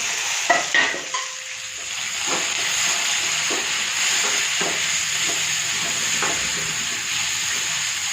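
Onion, coconut and tomato sauté in a pan with a constant bright sizzle and hiss, a few clattering spoon strokes near the start, then gentle intermittent stirring over steady frying, no voices.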